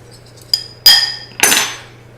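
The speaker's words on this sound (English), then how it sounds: "stir it up as much as you can." Utensil stirring salmon dinner ingredients dressed in olive oil in a bowl, heard as three separate clinking, scraping strikes against the bowl over a low steady hum, close and fairly loud.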